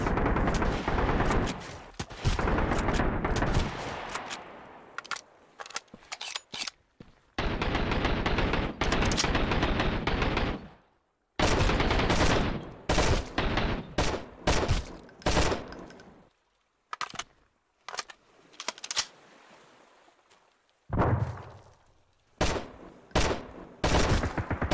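An AK rifle fires in the survival video game Sunkenland in repeated loud automatic bursts of sharp cracks, separated by brief gaps of silence, the shots close and dominant.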